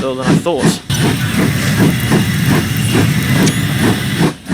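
GWR 57xx Pannier Tank steam locomotive in Train Simulator 2022, a loud rhythmic chuffing exhaust beat repeating steadily, close and strong, with a brief tonal whistle-like sound near the start.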